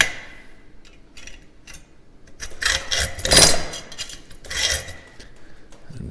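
A hacksaw cuts metal for a bottle opener in a few separate rasping strokes, close and fairly quiet, each stroke brief with short pauses between them and no talk.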